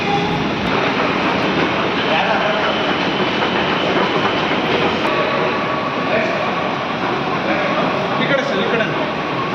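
A Bengaluru metro train running, a steady loud rolling rumble with rail noise and faint clatter throughout, continuous and close.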